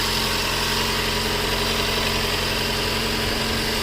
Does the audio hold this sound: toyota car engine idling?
yes